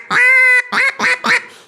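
A duck call blown by a caller imitates a mallard, giving one long drawn quack followed by three shorter, choppy quacks, loud and close with no talking.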